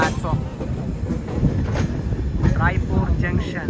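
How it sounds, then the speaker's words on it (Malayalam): The Samata Express rolls into Raipur Junction with a low rumbling rail noise, wind buffeting the microphone close up and a few faint squeals. Voices are heard over the train. "ഇതാ നമ്മുടെ ട്രെയിൻ എത്തിക്കൊണ്ടിരിക്കുകയാണ്"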